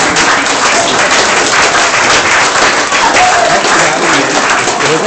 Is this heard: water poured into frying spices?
no